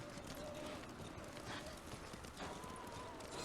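Horse galloping in the video game Ghost of Tsushima, with rapid steady hoofbeats under a noisy wind-and-weather backdrop and faint game voices.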